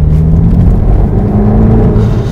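BMW Z4 gasoline engine accelerating from a stop, heard from the cabin as a steady low droning hum that rises slightly in pitch, no talking.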